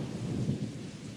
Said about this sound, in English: Boom, ba-boom, crashed the thunder.